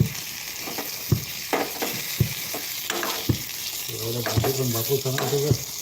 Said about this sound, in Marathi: डब्यातून नेलेले भाजी त्यांनी परत घेऊन आलं आहे गरम करतो आहे